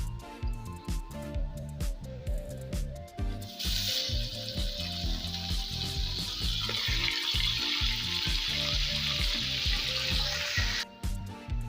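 Loud hissing sizzle of beef hitting a hot pan of browned onions for korma, rising sharply after a few seconds and holding steady over clattering, rhythmic stirring.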